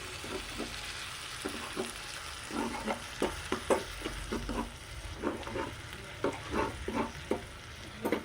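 Spice masala for green peas curry frying in a pan, a dry sizzle broken by repeated scraping and stirring strokes in an irregular rhythm, moderately quiet, no speech.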